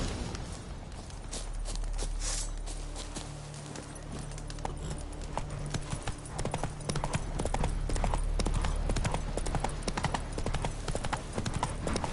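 Hooves clip-clop steadily as the horse Roach walks in The Witcher 3, near and continuous, with low game ambience and a faint bit of speech beneath.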